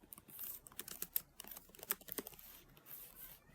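Fast typing on a computer keyboard while formatting a Microsoft Word document, with dense, irregular key clicks and a few louder keystrokes heard close up, alone.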